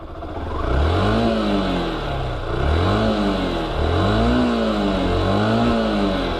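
A Yamaha SZ 150 motorcycle engine revs hard in repeated rising surges toward 6,000 RPM, loud and close, each pull climbing in pitch before easing back.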